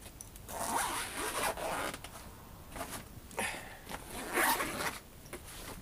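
Zipper on a guitar gig bag being pulled open in several bursts, close and fairly quiet, with short rasping runs separated by pauses and no talking.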